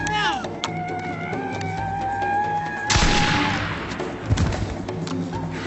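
Shots ring out at men in a 1990s frontier western drama, with a sudden burst of gunfire and booming reports over a music score, followed by a few dull thuds, loud and close.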